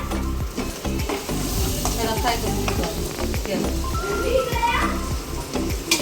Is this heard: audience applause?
no